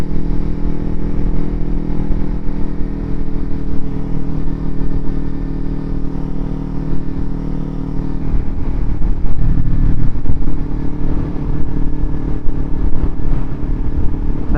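A Kawasaki Ninja 300 motorcycle with an aftermarket exhaust idles and revs with a deep, throaty rumble, loud and close throughout, swelling briefly partway through before settling back.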